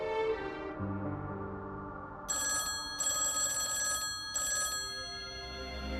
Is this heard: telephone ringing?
yes